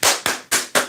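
A man claps four times in quick succession, each clap a sharp, loud, close smack with a short ringing tail, spaced about a quarter second apart, with no talking.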